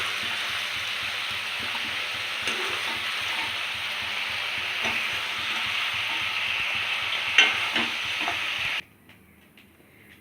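Chicken pieces sizzle and fry in oil in a kadai for a steady, close crackling hiss, with occasional stirring clatter, cutting off abruptly near the end.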